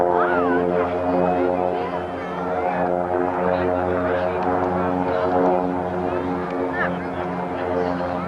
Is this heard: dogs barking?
no